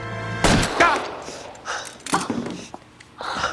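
Sharp gunshot blasts from the crime video game L.A. Noire, several close reports in the opening second followed by further bursts and echoing tails, loud and punchy.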